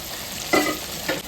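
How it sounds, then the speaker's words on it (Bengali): Masala being sautéed in a pan with salt and turmeric, a soft steady sizzle under two brief louder scrapes of stirring, close and fairly quiet, with no talking. "ভালো করে এবার আমি কষিয়ে নেব। তারপর দিয়ে দেবো পরিমাণ মতো লবণ, এবার দেবো হলুদ"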